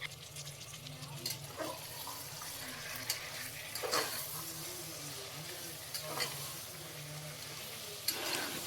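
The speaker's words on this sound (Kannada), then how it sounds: "ಟೊಮೆಟೊ ಚೆನ್ನಾಗಿ ಎಣ್ಣೆಯಲ್ಲಿ ಫ್ರೈ ಆಗಬೇಕು." Chopped sour tomatoes fry in oil for a village-style tomato bath, giving a steady close sizzle with periodic scraping stirs of a spoon in the pan, no talking.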